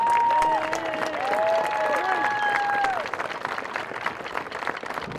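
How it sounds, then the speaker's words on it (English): A crowd at a high school football game applauds the homecoming court, scattered clapping and cheers under whistle-like tones, fading to thinner claps toward the end. "Please join me in giving them a round of applause."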